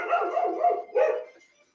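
A dog barks a few times, fairly close and clear, with a short pause before a final bark, and no talk over it.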